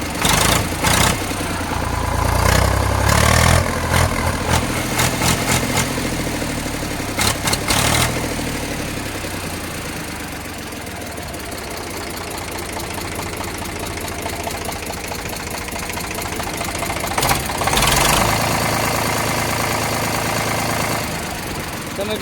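A used single-owner tractor engine idles steadily and close by, a continuous low mechanical rumble with a knocking throb, under occasional speech.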